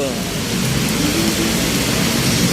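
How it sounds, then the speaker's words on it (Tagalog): Heavy typhoon rain from Typhoon Bavi (Inday) roars steadily as a dense wash of noise, with a low rumbling hum underneath and no clear pauses. "Ngayon, umulan. Bagyong Inday. Super ulan."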